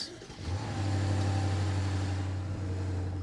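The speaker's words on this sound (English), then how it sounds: "magic, the car starts" A 2019 BMW M550i G30 V8 engine starting remotely, a short crank followed by a firm, steady low idle that settles in close and loud and holds evenly.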